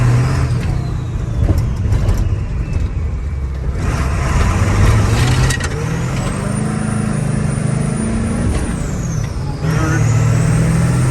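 A car accelerating slowly and shifting up through first to fifth gear without the clutch pedal, engine pitch climbing and dropping at each change under constant road and cabin noise, recorded inside without voices.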